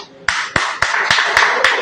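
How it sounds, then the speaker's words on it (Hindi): Audience clapping at a Super Saturday gathering in the DXN head office, a few distinct sharp claps at first that quickly build into steady, close applause. "तो आपकी भरपूर तालियों में मिस राहत"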